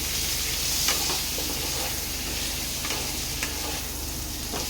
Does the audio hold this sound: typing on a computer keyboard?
no